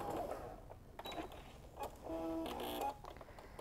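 A sewing machine fitted with a quarter-inch foot stitches a quilt seam, giving faint mechanical whirring in short uneven runs, the longest near the end, with brief pauses between.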